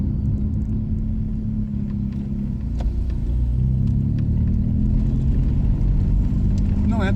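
Deep, droning exhaust resonance from a 2003 VW Gol Power with a straight-pipe exhaust, held steady at about 2000 RPM and heard loud and continuous from inside the car.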